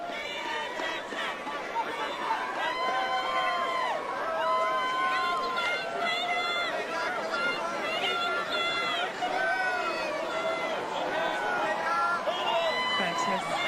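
A large crowd cheers and chatters at the Wellington red carpet premiere of The Hobbit around Peter Jackson, a continuous babble of excited voices with scattered shouts and squeals throughout.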